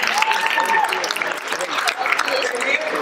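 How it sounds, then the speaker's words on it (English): Crowd clapping for a prize winner at a Black History celebration, dense continuous applause with voices calling out over it. "can we clap it up for her again one more time?"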